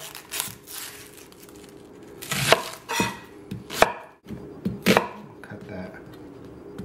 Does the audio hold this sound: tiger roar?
no